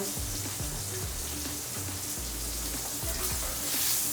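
A steak sears in a hot cast iron pan, giving a loud, steady sizzle and crackle with low thumps throughout, building slightly toward the end.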